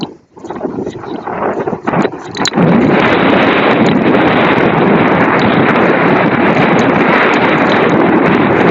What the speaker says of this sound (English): But the wind is blowing.